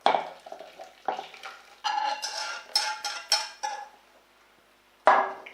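Glaze being stirred into chocolate and fondant for a traditional French glaze, heard as a series of close, intermittent scraping and clinking strokes of a utensil against a bowl, with pauses between them.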